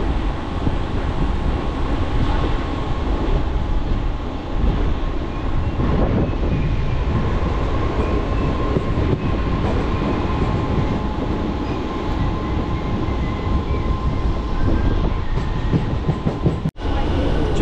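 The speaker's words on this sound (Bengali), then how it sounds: "আর কাথি থেকে আমাদের ট্রেন ছেড়েও দিল।" A Digha special train for the Rath Yatra festival, pulling out of Kanthi station, rumbles on steadily with loud continuous wheel and carriage noise, close and unbroken throughout.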